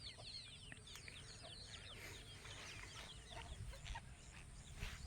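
Country chickens near a well on a farm cluck and chirp softly and continuously, several birds at a middle distance over a low rumbling outdoor background.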